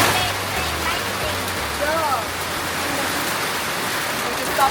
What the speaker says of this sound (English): it's like raining really hard